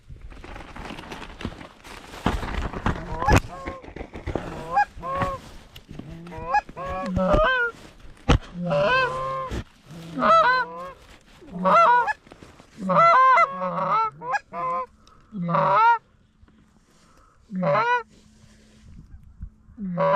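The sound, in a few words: flock of geese honking during a field hunt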